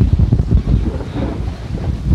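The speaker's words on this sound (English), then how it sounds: "now we have around 25 knots of wind" Strong wind of around 25 knots buffets the microphone on a sailboat running dead downwind and surfing waves at sea, a loud steady low roar with gusty swells throughout and no voices.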